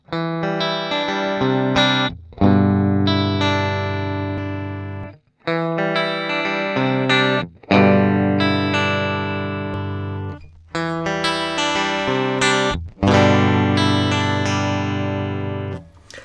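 Electric guitar through a Shift Line Twin MkIIIS preamp with cabinet simulations plays repeated chord phrases in short bursts with brief gaps, tone shifting between passages, loud and dry with no talking.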